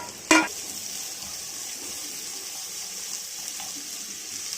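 Onions and tomatoes frying in butter in a pan for chicken butter masala, a steady close sizzle with a brief clatter of stirring at the start.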